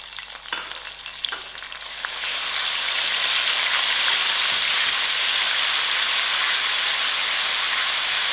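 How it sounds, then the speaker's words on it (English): Onions with garlic and curry leaves frying in hot oil for a chayote curry. A few clanks come at first, then a loud, dense sizzle surges and holds steady, close and continuous, with no talking. "I allow these onions to get done."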